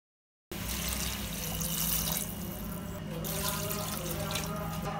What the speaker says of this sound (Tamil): ஆட்டுக்கால் வேகிற அளவுக்கு நம்ம தண்ணி சேர்த்துக்கலாம்.